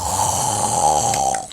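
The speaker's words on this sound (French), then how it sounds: "un immense ronflement s'élève au fond de l'écurie" A reindeer snores loudly in a stable, a story sound effect: one long, close, rumbling snore with a raspy buzzing texture, alone and steady before a brief trailing end.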